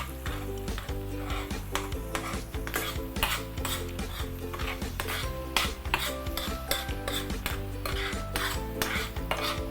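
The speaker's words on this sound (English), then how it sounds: "Just want to slowly saute." Ingredients sautéing slowly in a pan for a steamed fish dish sizzle steadily while a utensil stirs and scrapes against the pan in repeated close strokes; no speech.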